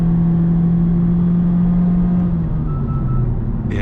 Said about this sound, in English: You can hear the engine. It's not obtrusive